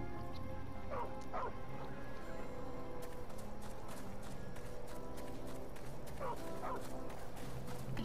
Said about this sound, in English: Y'all hear that? There's definitely a dog over here.